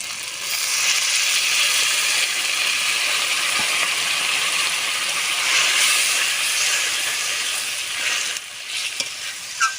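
Water poured into a hot pan while cooking a Bengali lunch thali, giving a loud, steady hiss of boiling sizzle that holds for most of the clip before easing off near the end.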